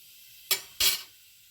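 Cumin and fennel seeds hit hot oil in two quick bursts of sharp crackling sizzle, close and loud, each lasting a fraction of a second before settling back to quiet.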